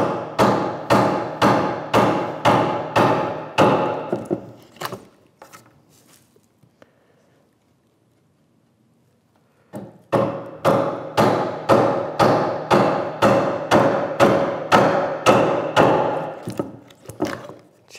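A chisel is driven into stout softwood while making a workbench, with loud, evenly spaced mallet blows in two long runs of about a dozen strikes each, separated by a quiet pause with faint handling.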